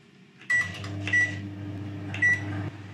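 Microwave oven set for 1.5 minutes at 800 watts, heating a small amount of water for sun-dried tomatoes; a steady low hum starts after a door or button clunk, with brief clicks and bright chimes near the start and the end.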